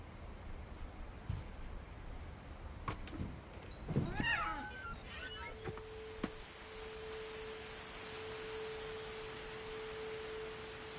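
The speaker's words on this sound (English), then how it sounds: "I hear a cat." In the video game What Remains of Edith Finch, a cat gives a couple of short, fairly faint meows midway, set against a soft game ambience with a steady tone toward the end.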